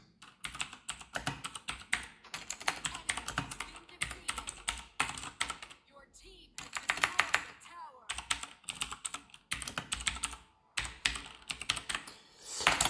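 Rapid typing on a computer keyboard during a break in Arena of Valor mobile gameplay, clattering in bursts over about thirteen seconds with short pauses, mixed with game sounds and occasional talk.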